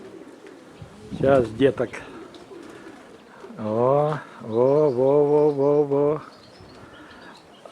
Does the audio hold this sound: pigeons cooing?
yes